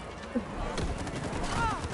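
Video game gunfire sounds as a short, muffled burst of rapid shots at middling distance, lasting about two seconds.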